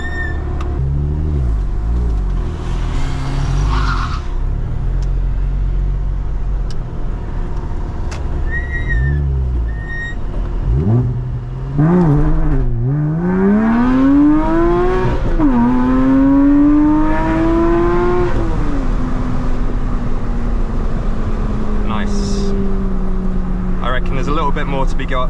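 A car accelerates hard with a rising engine note that climbs through the gears, loud and close, before settling into a steady drone. A voice talks over it.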